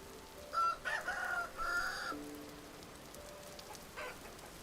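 Chickens in the survival game Vintage Story cluck and squawk in a few short, fairly loud bursts early on, then a softer call near the end, over faint rain-like background noise, with no talk.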